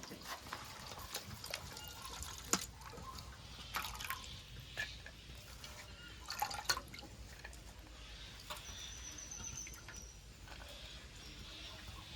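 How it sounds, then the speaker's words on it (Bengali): Figs and chopped potatoes rinsed in water, faint drips, trickles and splashes with soft clinks scattered across a quiet kitchen background. "ডুমুর আর আলুগুলো ভালো করে ধুয়ে নেব।"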